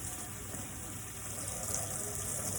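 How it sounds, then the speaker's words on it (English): Tap water runs steadily into a sink while a wrist is rinsed, a soft continuous hiss and splash with no voices, fairly quiet and even throughout. "And then we're gonna rinse."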